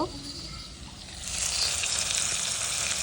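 Bitter gourd and tengra fish sauté in a pan with turmeric and chilli, a soft hiss that swells into a louder, steady frying sizzle partway through, with light scraping of stirring.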